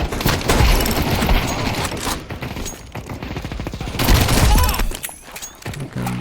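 Rapid bursts of gunfire in the video game Eternal Strands, loud and close, with two dense volleys separated by a quieter stretch and a player's voice faintly underneath.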